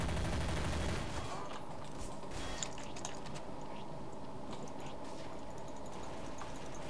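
Rapid gunfire in Counter-Strike: Source, a dense burst of shots at the start followed by scattered quieter clicks and game noise through the rest, with no talk over it.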